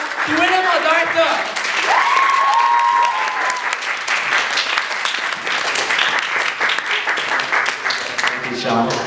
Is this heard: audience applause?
yes